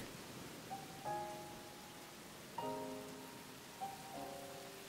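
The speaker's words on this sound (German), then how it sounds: "Mit den schwächeren Regen wurde alles ruhig." Soft rain patters steadily in the video game Rain, faint and continuous, with a few quiet tonal chimes rising over it at intervals.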